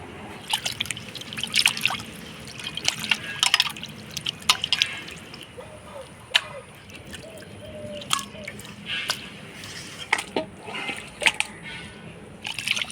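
Local goat meat pieces are rinsed clean in water, with drips, trickles and small splashes coming irregularly throughout, close and fairly clear, and no talking.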